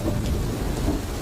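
Heavy rain pours at night with a low rumble of thunder, a dense, steady hiss of downpour with deep rolling underneath and no voices.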